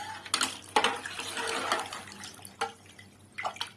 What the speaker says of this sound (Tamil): 6 கிளாஸ் தண்ணி ஊற்றிக்கிங்க.